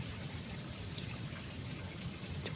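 Water poured onto soil to wet it for air layering a Semarang rose apple plant, a soft, steady low gush and trickle at moderate level without talk.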